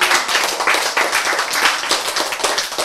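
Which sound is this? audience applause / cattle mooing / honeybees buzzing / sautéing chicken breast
audience applause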